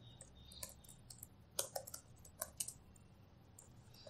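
Faint, scattered keystrokes on a computer keyboard as a password is typed on a Linux machine, a few quiet clicks in small clusters over low background hum, no talking.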